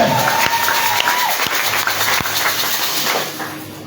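Worshippers at a church service clap and cheer in a sustained, full burst of applause, a thick crowd roar that stays loud and then eases slightly toward the end.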